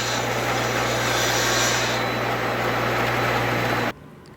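A saw cuts angles into a wooden board for a headphone stand, with a loud, steady whirring rasp that runs continuously and then stops abruptly.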